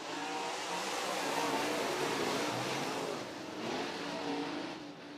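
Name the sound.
modified race cars accelerating at the green flag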